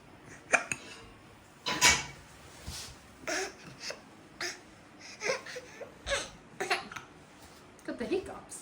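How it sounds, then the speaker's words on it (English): Repeated hiccups from someone in a home kitchen while pickled cabbage is being made, sharp separate bursts spaced irregularly, mixed with short voice sounds and bits of talk. "Got the hiccups."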